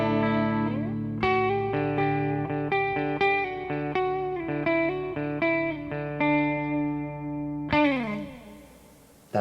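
Electric guitar played through an effects pedal board with the reverb off, distortion-free, strummed chords and picked notes ringing in steady rhythm, close and fairly loud, ending with a final strum that decays.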